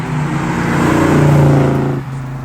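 A 1969 Plymouth Roadrunner muscle car with a 426 Hemi engine revs loud and close, its deep rumble climbing and holding before dropping back to a steady idle.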